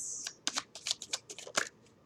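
Tarot cards shuffled by hand and pulled from the deck, a quick run of soft crisp riffling flutters and slaps in a quiet room, with no one speaking.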